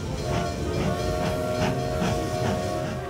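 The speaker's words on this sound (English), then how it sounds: "The train is leaving." Departing train in the Manor Matters video game, a steady hissing, chugging rhythm of regular steam puffs over a low rumble and a faint sustained tone, with no voices.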